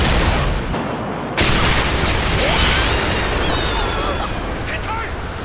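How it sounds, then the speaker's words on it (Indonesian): A missile fired from a submarine explodes in an anime scene, a loud, sustained roaring blast of broadband noise that surges after a brief lull and rumbles on steadily to the end. "tiba-tiba sebuah kapal selam menembakkan rudal ke arah mereka."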